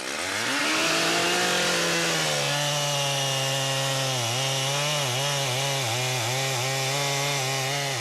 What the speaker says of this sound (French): Démarre la scie.